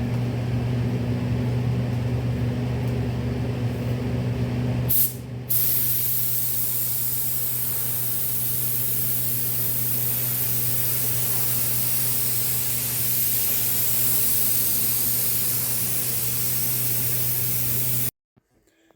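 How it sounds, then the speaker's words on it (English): A spray gun applying latex primer to trim: a steady, loud spray hiss runs continuously for about thirteen seconds after a brief low hum and a sharp start, then cuts off abruptly. "So I got my spray gun ready."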